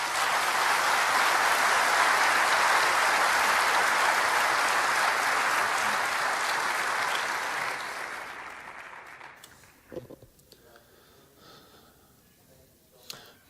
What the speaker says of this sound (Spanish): le vamos a recibir con un aplauso especial